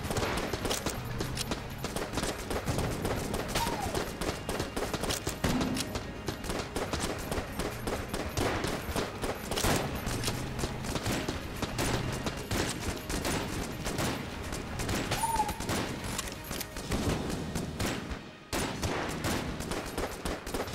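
Rapid, dense bursts of gunfire from the Jolter gun in the video game Enter the Gungeon, a continuous stream of sharp shots lasting throughout, loud and close, with a brief gap near the end.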